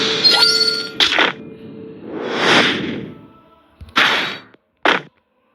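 Gunshots in a shooter video game: a sharp crack followed by whooshing, swishing effects and two more quick bursts, loud and close with no talking.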